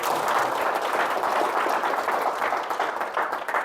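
A lecture audience bursts into sustained applause, dense crowd clapping filling the hall loudly and evenly throughout, with no speech over it.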